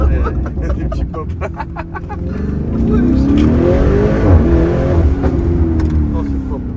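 While driving, the engine of a 745 hp Lamborghini Urus Mansory rises under acceleration, and faint exhaust pops and crackles may sit in its note, with voices talking alongside.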